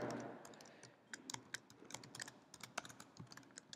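Someone types code on a computer keyboard, producing a quick, irregular run of close, crisp key clicks with no talking.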